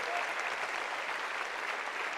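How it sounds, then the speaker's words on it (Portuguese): A church congregation claps during a worship service, a dense, steady burst of many hands applauding at moderate distance with no pauses. "Vamos aplaudir, vamos aplaudir."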